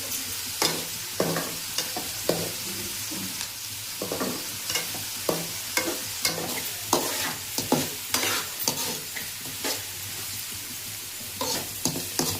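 Prawns simmer in a pan for a prawn iguru made with onions and turmeric, with no tomatoes, under a steady hiss, while a spoon scrapes and stirs in repeated rhythmic strokes; no one speaks.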